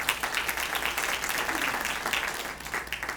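An audience applauds Reverend E. Terry Lavelle of the U.S. Department of Veterans Affairs at a nonprofit forum hosted by Congresswoman Edwards: steady, dense clapping from a crowd, sustained at an even level throughout, with no voices over it.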